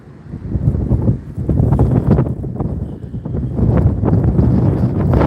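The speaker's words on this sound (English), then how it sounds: "Man, it is windy out here today." Strong wind blows outdoors on a wet April day, buffeting the microphone in loud, rumbling gusts that rise and fall without a break, with no voices heard.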